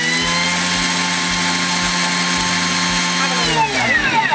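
A Thermomix on its turbo setting chops coconut: a loud, steady motor whir broken by several rhythmic pulses, then the blades wind down near the end.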